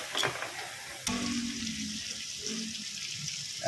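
Oil heats in a pan for pansit bihon, with a soft crackle starting after a sharp clink and a steady low hiss continuing behind it.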